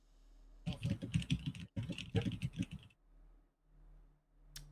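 Rapid keyboard typing on a computer during a tabletop miniatures wargame session, two dense bursts of clacking keystrokes close by, followed by a quieter pause with faint room noise and one sharp click at the end.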